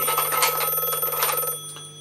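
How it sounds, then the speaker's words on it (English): A telephone rings in a comedy radio skit, a continuous electronic ringing tone lasting about a second and a half, fairly loud and close, then fading away. "Oh, it's the phone. Oh, it's ringing."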